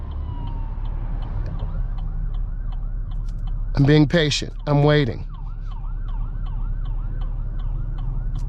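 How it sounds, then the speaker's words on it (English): An emergency vehicle siren wails through traffic in a repeating rising and falling cycle, faint to moderate, with someone speaking briefly in the middle. "You should be able to hear the siren."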